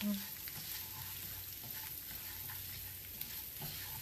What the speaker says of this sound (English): So 1 cup of rice goes in the skillet. And you want to get it where it's nice and brown. So you take your spatula and you just stir it